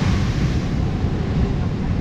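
Ocean surf breaking along the Portuguese coast makes a steady, close, full-bodied roar, with wind buffeting the microphone throughout and no clear pauses between waves.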